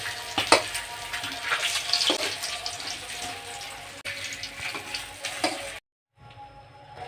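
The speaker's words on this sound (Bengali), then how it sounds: "বাকি মাছগুলো আমি লাল লাল করে ভেজে নিয়েছি" Rohu fish pieces frying in hot oil in a pan, a steady close sizzle with crackling bursts and occasional stirring, briefly cutting out near the end before resuming.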